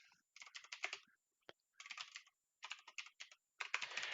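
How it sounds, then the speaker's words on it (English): A computer keyboard clacks in quick, loud bursts of rapid keystrokes separated by short pauses, heard close up with no talking. "hearing the keyboard clack like a machine gun going off in the other room"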